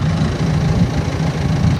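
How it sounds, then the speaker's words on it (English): A tractor rolling down a Dutch beach to collect a boat, with a brief, close, low, steady engine rumble. "then the tractor comes down and picks him up"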